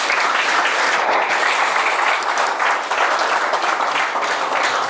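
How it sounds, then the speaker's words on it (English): An audience at a tester-community lightning-talk meetup applauds a speaker named Matt, with steady, dense clapping from many hands sustained loudly for about five seconds, and no talking heard over it. "Round of applause for Matt."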